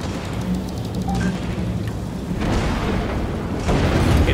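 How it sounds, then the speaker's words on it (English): Cannon hits exploding in the mech combat video game Vox Machinae, a dense rumbling barrage of booms with heavier thuds building toward the end, loud and continuous. "Hit by a cannon from the southwest."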